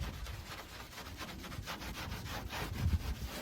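Steady abrasive rubbing and scraping as rust is worked off the body of a 1957 Pontiac Star Chief, continuous close strokes with a brief heavier scuff near the end, no voices.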